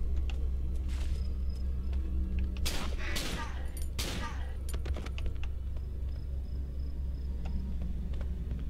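Hunting rifle shots in the video game Cry of Fear, a few sharp cracks clustered in the middle over a steady low background hum.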